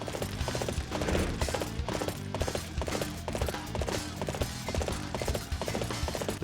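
Horse hooves gallop in the video game Dynasty Warriors 8, a fast rhythmic clip-clop running steadily over layered battle sounds.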